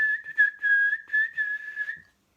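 A person whistles a melodic tune in a series of sustained, wavering notes broken by short pauses, clear and close, then stops abruptly; imitating a farmer whistling on the way to work.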